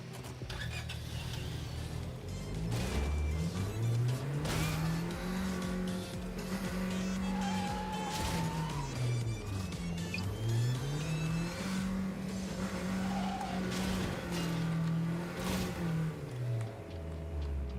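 A car driving in a video game: an engine revs up and down in long repeated sweeps, with tire squeals and skids on top, continuous and fairly loud, with no voices.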